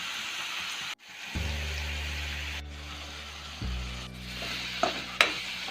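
Tomato chutney with chili powder frying in a pan, a steady hissing sizzle with a low hum underneath and a few sharp scrapes of stirring near the end, no talk.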